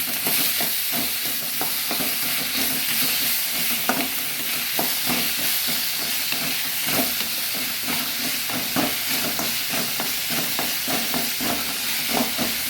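Radish for coastal-style pulimunchi fries and is stirred in a pan, a steady loud sizzle with repeated scraping strokes of the spoon throughout, no voices.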